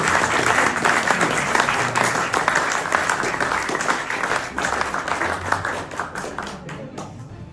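A large audience applauds at a formal awards event, dense sustained clapping throughout that gradually thins toward the end, fairly close and loud.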